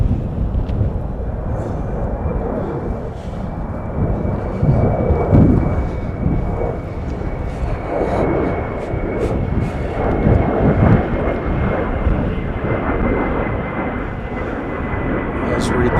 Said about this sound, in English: here's Air France flight 136 now arriving from Paris on an Airbus A350-900, brand new aircraft.